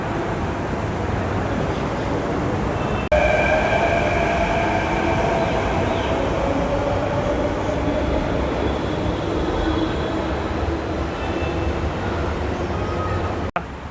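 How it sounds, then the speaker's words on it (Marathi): A Mumbai Metro train at Ghatkopar rumbles loudly and steadily, with a rising electric whine and a faint squeal of wheels running underneath. "मेट्रो आली आणि मेट्रो निघाली मुंबई मेट्रो"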